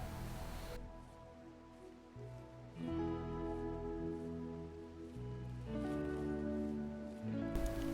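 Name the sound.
rainstorm at night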